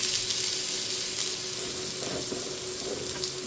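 Finely chopped onion sizzles in a little hot oil in a home kitchen, a steady, close hiss with occasional soft stirring scrapes, no talking.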